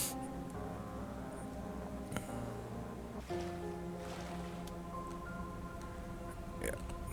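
In the Unturned video game, a steady watery ambience of lapping sea and a low boat-like hum surrounds an underwater base beneath a cargo ship, with someone talking over it.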